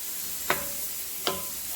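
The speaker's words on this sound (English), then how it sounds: "I've gone ahead and chopped up half of an onion, and I'm going to saute this" Chopped half onion sweating in butter and olive oil for a Neapolitan sartù, with a soft steady sizzle broken by two or three quick spoon scrapes and no speech.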